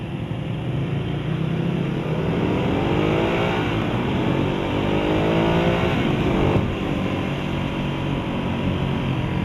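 A 2015 Ducati Hypermotard 821 motorcycle engine pulls hard through the revs on a test ride, a loud, steady rising drone with wind rush and no speech.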